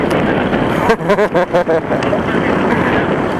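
Strong wind roars across the microphone in a steady broadband rush, with a brief burst of voices partway through.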